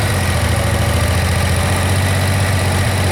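A Suzuki VX 800 motorcycle engine running loud and close with its carburettors being balanced, a steady throbbing low rumble as the throttle is opened, no voices.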